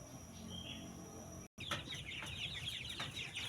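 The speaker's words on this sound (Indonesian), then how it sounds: "Nanti kita bisa lihat ayam kita di kandang." Chickens in a poultry coop holding a block of about 200 birds cluck close by in a steady murmur, broken by a brief gap and a few sharper calls, with no talking.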